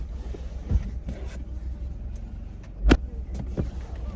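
A car drives slowly over soft farm ground, its low engine rumble steady underneath and a few thumps and creaks as it rolls across uneven terrain.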